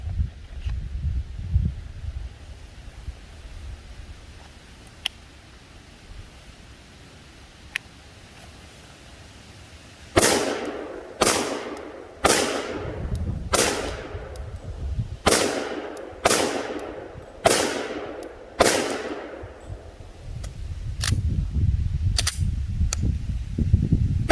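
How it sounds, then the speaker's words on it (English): A Glock 23 pistol fires about eleven sharp, loud shots at a target with an outdoor echo. The shots come in a fairly steady rhythm of roughly one per second, after a quiet stretch of low background rumble, and no one talks. "that's pretty passable shooting for me hating this gun"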